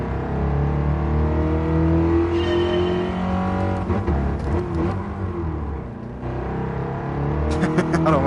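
Engine of a stock 118-horsepower car with a four-speed transmission in GT Sport, revving steadily with rising and falling harmonic whine over about eight seconds, loud and continuous, with a voice talking over it at times.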